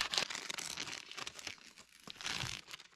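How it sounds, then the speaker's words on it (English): Crinkly plastic packaging being unwrapped at the start of a winter build, a continuous close crackling and rustling with uneven bursts, no talking over it. "I think you can just unwrap it like a present."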